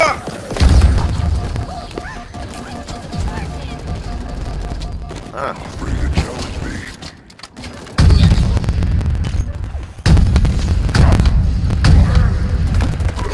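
Gunfire and heavy booms from Halo Infinite co-op combat, loud bursts recurring through the clip with dips in between, under excited speech from players.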